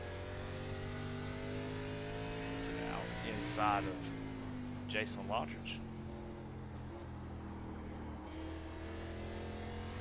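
ARCA Series race car at North Wilkesboro, its engine droning steadily with gear-shifting pitch sweeps throughout, heard from inside the car as a commentator talks over it.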